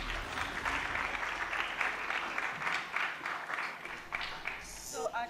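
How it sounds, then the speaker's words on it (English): Sustained applause fills the room for a presenter at a children's summit session, a dense steady wash of many hands clapping throughout, with a brief voice near the end. "Can we please give him another round of applause?"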